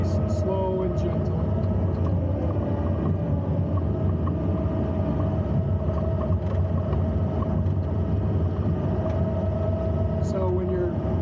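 Takeuchi TL12 V2 track loader engine running steadily with a constant low rumble and hum throughout, heard from inside the cab while someone talks over it.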